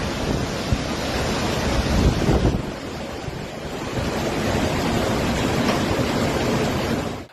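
Floodwater rushes and roars during severe flooding in Poland and Czechia, where rivers tear away bridges and swamp roads; a loud, steady broadband torrent churns continuously with a gusty, wind-buffeted surge, and no voices are present.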